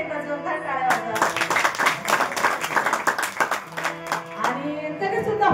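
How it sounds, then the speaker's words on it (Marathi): Audience applause and clapping at a Marathi kirtan, a dense burst of hand claps with music tones beneath it, ending in a brief lull before the clapping swells again. "त्या सगळ्यांसाठी एकदा जोरदार टाळ्या वाजवा."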